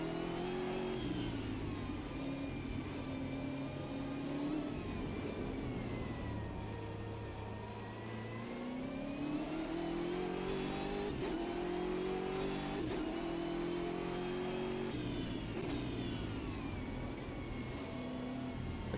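A BMW GT3 race car's engine in the sim racing game Automobilista 2 revs and shifts continuously, rising and falling through gears at steady, moderate level.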